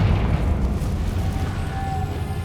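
A Confringo spell explodes in Hogwarts Legacy, giving a loud, sustained booming rumble. The rumble holds steady for a couple of seconds, then eases slightly, with a faint tonal ring near the end.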